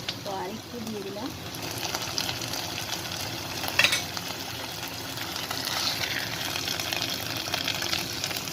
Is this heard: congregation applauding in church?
no